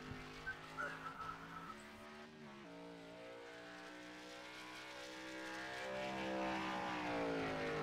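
A Chevrolet Impala stock car engine roars steadily and drops pitch as it downshifts to third gear exiting a turn at Gateway, then winds back up, loud and continuous with no talking.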